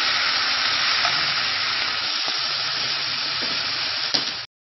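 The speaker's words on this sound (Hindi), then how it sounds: "अब इसको थोड़ा सा और इसके साथ फ्राई कर लेंगे" Salted mutton liver frying in a pan makes a loud, steady, bright sizzle that holds evenly for over four seconds, with faint stirring clicks, then cuts off abruptly.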